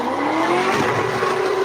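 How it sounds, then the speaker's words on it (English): At a nighttime street takeover, a car engine revs high with a rising whine while tires squeal steadily, loud and close, no voices heard. "Engines revving, vehicles spinning, rubber burning, fireworks exploding."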